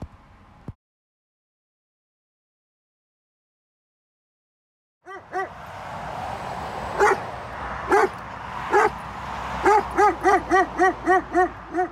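A nervous, reactive dog barks and yips in a rapid burst of close, loud barks after a brief quiet gap, with the barks coming quicker toward the end.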